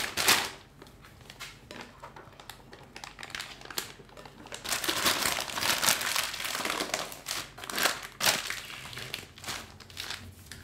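A plastic piping bag fitted with a plain nozzle is filled with strawberry cream, giving close, crinkly plastic rustling in irregular bursts that swell and fade over about ten seconds, with no talking.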